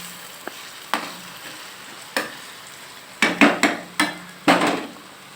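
A utensil stirs mango rice in a pan, producing a series of sharp scraping knocks against the metal, sparse at first and then quicker, over a faint low sizzle with no voices.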